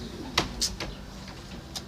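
Racing pigeons in a loft in England give a few soft, brief coos and rustles, with faint background noise and no clear talk.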